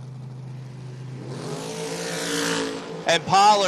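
An 1982 Ford Capri and a purple Camaro at a drag race: a steady engine drone swells into a roaring launch, then sharp throttle blips and revving bursts close by at the end.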